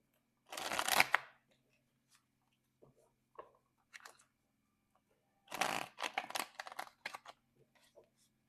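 Tarot cards are riffled and shuffled close up in a quiet room, two short bursts of crisp flapping with soft taps and slides between them.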